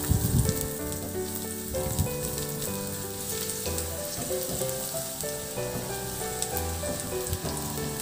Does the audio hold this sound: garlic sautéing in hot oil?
yes